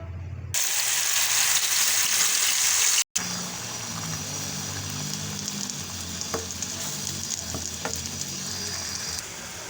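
Spices and paste dropped into hot ghee for chicken seekh kebab masala, a loud steady sizzle and crackle of frying with a brief cut midway and a few spoon scrapes against the pan.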